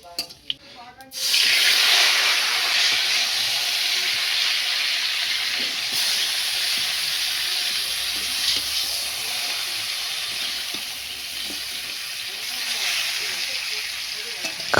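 Tamarind sizzling and frying in hot oil with panch phoron, a steady loud hiss that starts abruptly after a second and holds for the rest of the clip, with occasional stirring.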